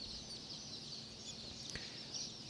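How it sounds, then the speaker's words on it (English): Wheaten Standard Old English Game Fowl chicken clucking softly and continuously, with faint scattered fowl calls against a low, quiet farmyard background. "This particular breed is said to be one of the oldest breeds of fowl"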